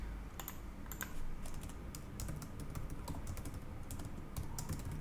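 Someone is typing PowerShell code on a computer keyboard, a quiet, steady run of rapid key clicks with no talking.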